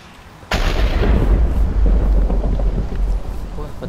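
Thunder strikes in a Minecraft world on a server, a sudden loud crack followed by a sustained deep rolling rumble that fills the rest of the moment.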